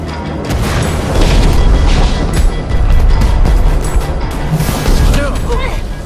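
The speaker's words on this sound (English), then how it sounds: "Fireworks!" Fireworks burst in Minecraft Story Mode during a fight with the Wither Storm, several deep booms rumbling loudly over busy game noise and voices.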